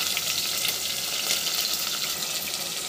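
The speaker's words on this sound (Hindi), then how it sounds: "और लाइट ब्राउन होने तक इसको हम भूनेंगे" Onions frying in a pan for a jackfruit curry, cooking toward light golden brown, give a steady, close hiss of sizzling oil that runs unbroken throughout with no voices.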